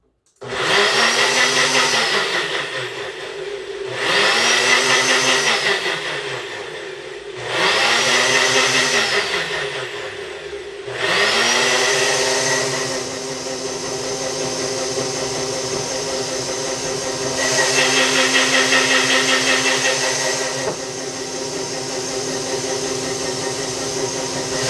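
A kitchen blender holding only water runs loud and whining in three short bursts with pauses between, then keeps going in a long continuous run that swells and eases slightly, with no talking.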